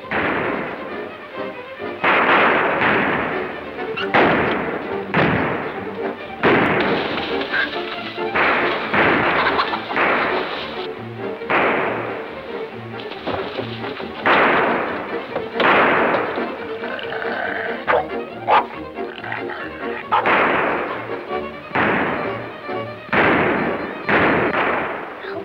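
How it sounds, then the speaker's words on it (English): Gunshots ring out as dense, repeated booms and thuds through old, band-limited film audio, running continuously in a busy, chaotic stretch of rapid blasts. "They're shooting at us."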